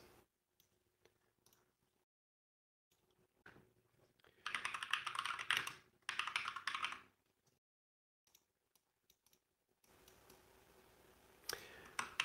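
Someone types on a computer keyboard in a quiet room: sparse clicks, then two dense bursts of rapid keystrokes, a pause, and another run of typing toward the end.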